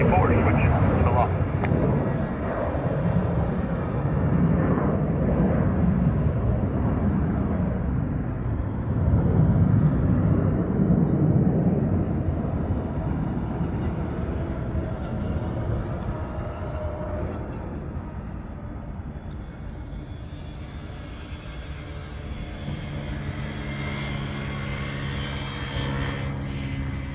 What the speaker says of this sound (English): this is that 737-200 right here